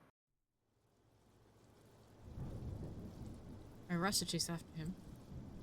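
Rain falls with a low thunder rumble in the Mamiya visual novel game. The storm fades in from silence, grows steady and fairly loud, and a voice speaks partway through.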